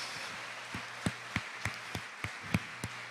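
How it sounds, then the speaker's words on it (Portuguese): Clapping in a church service, a handful of sharp, separate claps at a loose, roughly steady beat, faint and set against a quiet room. "Aplauda a Jesus."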